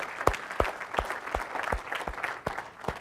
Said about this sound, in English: we can wrap up with a round of applause for all the demos that went off today